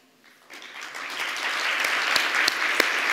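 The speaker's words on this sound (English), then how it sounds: "warm round of applause" Warm applause rises quickly from quiet as an audience at an anniversary celebration begins clapping, swelling into steady, dense clapping with a few sharp louder claps standing out.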